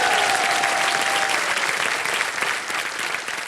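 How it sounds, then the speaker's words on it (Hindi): Dense, steady applause from a studio audience on the set of a televised quiz show, loud and sustained throughout with a faint tonal line early on, tapering slightly near the end. "तालियां बज जाए इनके लिए।"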